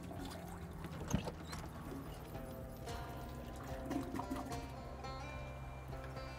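A toilet flushes in a restroom inside the Shadows over Loathing video game, a continuous rushing, gurgling water sound with a sharp click early on, steady and moderately quiet with no speech.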